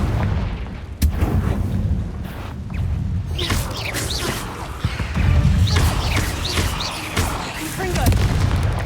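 Confringo fire-blast spell explosions in Hogwarts Legacy on PS5, heard as repeated booming blasts and crashing impacts over a dense battle din, loud and close, with a sharp crack near the start.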